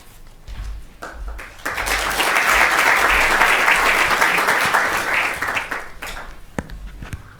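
Audience clapping at a local authority climate toolkit launch event, a few scattered claps swelling into steady full applause that holds for several seconds and then fades to scattered claps.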